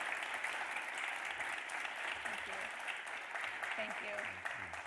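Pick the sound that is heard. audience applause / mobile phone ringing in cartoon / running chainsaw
audience applause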